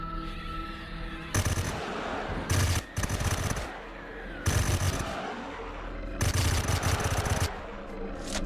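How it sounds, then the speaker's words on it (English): Sentry guns firing in the space survival game Empyrion Galactic Survival, with four loud sustained bursts of rapid automatic fire separated by brief gaps over a constant background rumble. "Cheeky freaking sentry guns."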